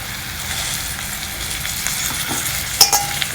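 Stuffed brinjals frying with onions in a pan, a steady close sizzle running throughout with a couple of sharper spits near the end.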